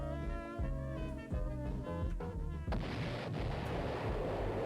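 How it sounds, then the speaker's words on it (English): Clown exploding in vintage VHS training footage: tonal music with soft thumps gives way to a sudden, sustained noisy blast that roars on for about two seconds at modest level. "go to see a clown explode"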